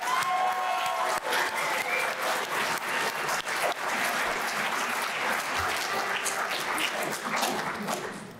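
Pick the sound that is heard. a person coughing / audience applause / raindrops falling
audience applause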